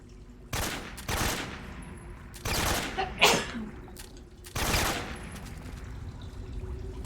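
Gunfire in a Metal Gear video game: five sharp, loud bursts at irregular intervals, some closely paired, with quieter game ambience between them and no talking.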